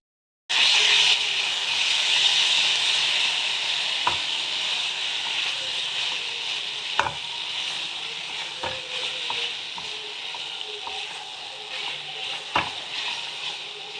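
Pumpkin and potato chunks with jaggery sizzle and scrape in a pan during a stir-fry, a steady loud fry broken by several sharp knocks of the spatula.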